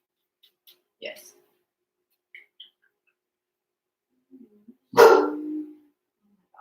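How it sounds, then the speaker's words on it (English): A dog gives one loud, close bark after a few faint, scattered sounds, with a brief voice heard just before it. "dogs. They just bark."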